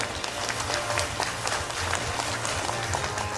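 Audience applause fills a seminar hall at a Toronto real estate summit, a dense, steady patter of many hands clapping at moderate loudness for the whole stretch.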